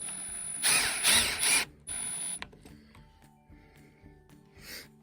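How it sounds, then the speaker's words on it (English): Screws driven into a door knob back plate on a wooden door, a loud buzzing power-driver whir in several close bursts, then quieter clicks and ratcheting taps as the tool settles, ending with one short burst. "I'm just gonna put in the screws now."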